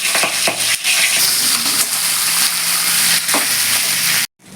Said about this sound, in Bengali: এবার আমি মাছের মাথাটাকে খুব ভালো করে ভেজে নেব